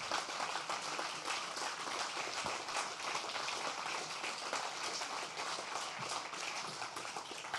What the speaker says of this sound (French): Tu sais Idriss, on va laisser d'abord les applaudissements que tu mérites.